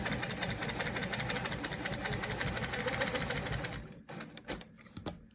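A sewing machine stitches steadily along a seam guided by a curvy quilting ruler, a fast even mechanical chatter for about four seconds that then stops, leaving a few faint clicks and handling noises.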